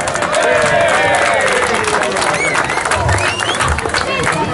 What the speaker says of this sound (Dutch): Applaus voor Paul!